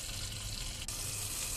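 Water is added to a pot of pancit bato noodles, pouring in a steady, close, splashing stream for a brief moment.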